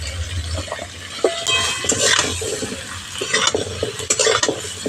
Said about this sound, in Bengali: সব সবজিগুলো একটু ভাজা ভাজা করে নেবো